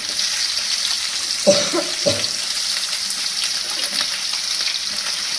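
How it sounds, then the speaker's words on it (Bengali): Chopped onion sizzles steadily in hot oil in a wok while a catla fish curry is being made, a dense continuous hiss with a couple of clunks from the pan around the middle. "এই যে কড়াতে তেল দিয়ে দিলাম, আমি একটু কুচনো পেঁয়াজ দিয়ে দিই।"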